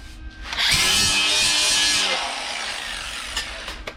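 Grinder working metal on a Ford Model T hot rod, a close, harsh rising whine with abrasive hiss lasting about two seconds, then winding down into quieter clatter and faint knocks.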